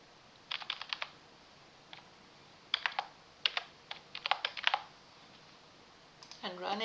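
Python code being typed on a computer keyboard: quick bursts of crisp key clicks in short runs with brief pauses, close and clear over a quiet background, then a voice begins speaking at the end.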